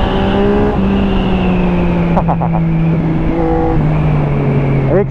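A Yamaha XSR 900 motorcycle engine accelerates up close, one steady, loud rising drone that runs with short stepped pitch shifts through the gears and a brief burst of higher harmonics near the end.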